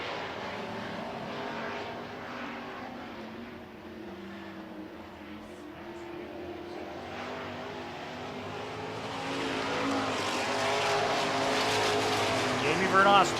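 Super Truck race vehicles roar around an oval track during a heat race, with a steady engine drone that swells louder near the end, heard under an announcer's commentary.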